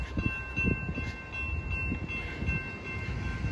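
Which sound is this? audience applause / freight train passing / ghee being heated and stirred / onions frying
freight train passing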